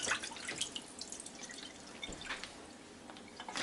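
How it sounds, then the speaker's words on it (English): Juice drained off a store-bought ham just freed from its plastic bag, falling in quiet irregular drips and a faint trickle into a container, close and soft. "we're going to drain out the juice because there's a lot of juice"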